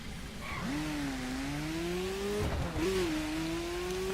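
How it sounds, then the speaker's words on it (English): A Mazda MX-5 engine in the racing game The Crew revs steadily upward, drops briefly, then climbs again, sounding close and continuous with a whirring tone. "Nice to hear an actual different sounding engine too."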